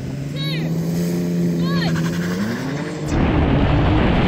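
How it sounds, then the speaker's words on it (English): A Porsche 911 Turbo S sports car launching in a drag race against a four-wheel-drive BMW M3, its loud engine rising in pitch as the tires spin, with a voice talking over it. "Oh, it's spun up its tires."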